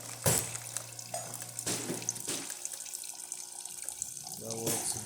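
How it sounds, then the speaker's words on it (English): Hot water runs from an Acaso Uno espresso machine into a cup, a close splashing gush with clinks and handling knocks, the flow starting and stopping over a few seconds. "So let's test the hot water."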